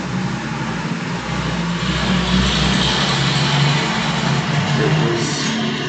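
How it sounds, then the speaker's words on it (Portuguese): A slow truck passes outside, its engine rumbling steadily and loudly throughout with broadband road noise that holds without a break. "Só um minuto, deixa o caminhão passar."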